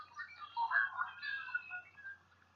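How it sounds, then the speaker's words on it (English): A lone male red-winged blackbird perched on an old cattail sings a short, faint, trilling phrase in a quiet marsh with little else audible. "A lone red-winged blackbird male, perched upon an old cat-tail, heralds the beginning of spring, desperately, relentlessly serenading."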